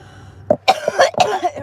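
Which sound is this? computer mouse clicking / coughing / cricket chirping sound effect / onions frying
coughing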